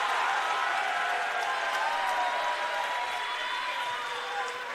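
A packed volleyball crowd at a women's match against AIC cheers and applauds in a sustained, dense roar after a long rally ends in a kill, loud and continuous from start to finish.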